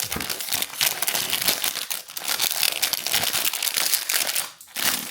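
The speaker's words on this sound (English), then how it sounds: "So now let's carefully take out the photo paper cartridge and then we'll put it inside here." Continuous crinkling and crumpling of plastic packaging close by, with brief tearing rustles as a photo paper cartridge for an Insta360 Flash Print printer is pulled free.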